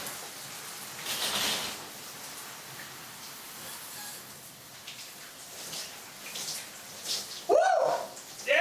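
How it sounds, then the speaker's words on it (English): Shower water sprays in a steady, close hiss, switched over to cold, with a short vocal exclamation near the end. "then go ahead and switch the water."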